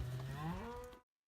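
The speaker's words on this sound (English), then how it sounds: "Look at all these freaking cows." A single cow lets out a long, deep, close moo that rises slightly in pitch before cutting off abruptly, heard on a Colorado Trail thru-hike.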